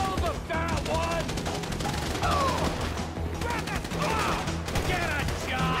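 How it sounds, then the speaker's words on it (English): Rapid bursts of gunfire crackle through a Grand Theft Auto V shootout, dense overlapping shots and automatic fire running continuously at close range, with shouted voices layered over the din. "So I guess we're shooting our way out of here!"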